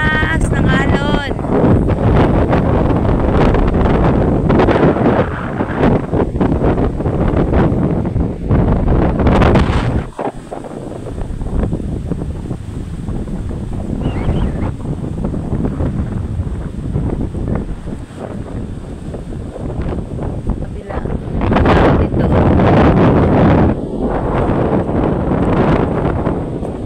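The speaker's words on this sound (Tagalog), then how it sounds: "Sobrang lakas ng alon." Strong waves and gusting wind on a seashore during the northeast monsoon: loud, steady roaring wind buffeting the microphone throughout, with surf under it and a person talking at times.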